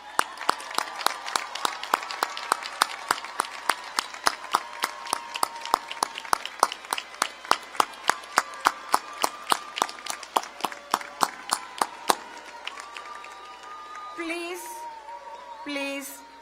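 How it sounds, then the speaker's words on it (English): An audience at a university winter commencement ceremony in an auditorium applauds steadily for several seconds. Then the clapping thins out and someone speaks over the last scattered claps. "please rise and show them your appreciation with a round of"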